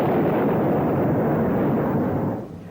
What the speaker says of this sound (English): The Iowa has 3 turrets containing 9 16-inch guns, 6 mounts with 12 5-inch guns.